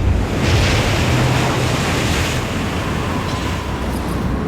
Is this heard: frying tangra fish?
no